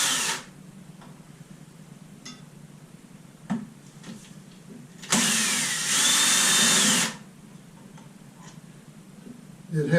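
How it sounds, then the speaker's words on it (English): A cordless drill backs out long bidet seat bolts, giving a brief whir then a sustained loud buzzing run of about two seconds, with quiet clicks and handling noise around it. "I recommend you get a cordless drill."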